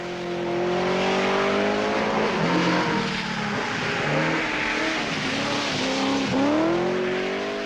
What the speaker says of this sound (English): And enthusiastically sideways, Eklund is busy staving off a challenge from young Henry Toivonen